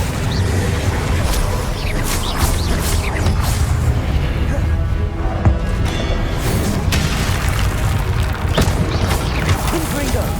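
Confringo explosive spell blasts in the Hogwarts Legacy video game: dense, continuous game combat with repeated booming impacts, crashes and whooshes layered over a loud, busy background.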